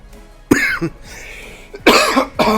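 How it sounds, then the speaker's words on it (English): Two sharp coughs, close and loud, separated by a short pause, with no talking. "Oh, more cough."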